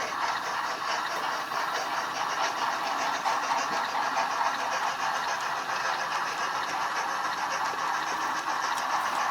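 Steady, continuous mechanical whirring of small model train locomotives running, an even hum with faint rattling, no voices.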